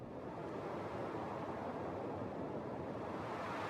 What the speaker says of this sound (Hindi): तभी अचानक वहां तेज हवाएं चलने लग गईं।